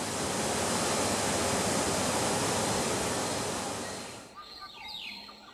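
Constant roaring rush of a waterfall in a protected natural area, loud and close for about four seconds before fading out to quieter ambience.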